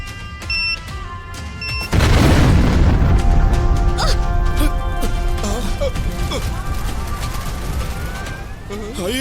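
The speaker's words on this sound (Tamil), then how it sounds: "ஒரு நிமிஷத்துல வெடிச்சிரும்" A car bomb blows up in a Tamil TV drama. After a quiet opening with a faint tone, a sudden loud boom arrives and becomes a long rumbling roar with debris and crackling, then a rising siren-like whine.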